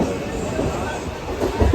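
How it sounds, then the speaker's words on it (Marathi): Mumbai local train at a crowded station on a Sunday, its steady rumble and wheel clatter running throughout, with voices talking over the din. "बघू नवीन नवीन लोकल आहे"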